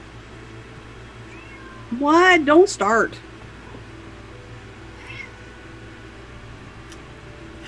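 A cat meows loudly and close by in a short burst of two or three rising, wavering calls indoors, while a person speaks briefly around it.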